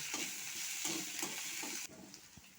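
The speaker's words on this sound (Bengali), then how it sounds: "একটু কাঁচা পাকা লঙ্কা দিয়ে এইগুলো আমি ভালো করে নেড়ে ফেলে ভেজে নেব" Watermelon rind with green chillies is stirred and fried in a pan, giving a steady close sizzle with rhythmic scraping strokes that stops abruptly near the end, leaving a faint quiet tail.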